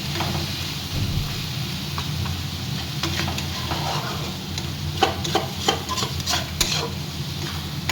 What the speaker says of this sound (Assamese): নহৰু, আদা আৰু জলকীয়াখিনি ভাজিছোঁ